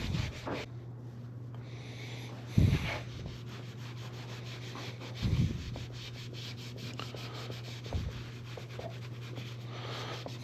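A rag wipes Mission Oak stain onto the wood of a homemade fishing rod stand, making a few soft, brief rubbing strokes over a steady low hum.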